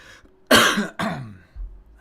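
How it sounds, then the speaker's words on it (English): Two harsh coughs close to the microphone, a short pause between them, followed by a softer breathy exhale. "sorry to be coughing in the mic there"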